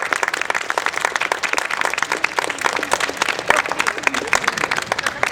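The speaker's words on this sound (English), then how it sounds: "Round of applause for her." Improv comedy audience in an open-air show applauding and clapping steadily throughout, a dense, continuous wash of hands from a crowd close by.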